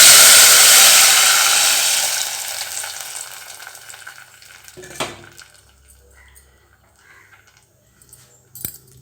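Rasam mix hits a hot pan of tempering for coconut milk rasam, bursting into a loud, close hiss that steadily fades over several seconds, with a few sharp utensil knocks in the quieter tail.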